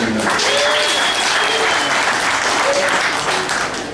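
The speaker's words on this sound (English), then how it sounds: "a nice warm round of applause for Dan Fleischman" Warm audience applause greets a player introduced at a World Series of Poker final table, dense steady clapping filling the hall at close range with faint voices and a brief whistle woven through, tapering slightly at the end.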